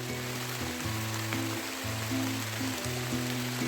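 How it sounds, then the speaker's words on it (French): Rain patters steadily over a permaculture garden in mid-June, a dense continuous hiss with a low hum running beneath it, no one speaking. "la pluie."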